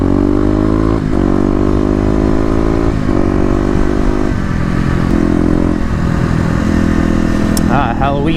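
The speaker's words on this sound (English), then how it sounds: "Ooh, crisp downshifts." A Kawasaki KLX250 motorcycle engine runs loud and close, its pitch dropping in steps as the rider downshifts, with rising revs on each gear change.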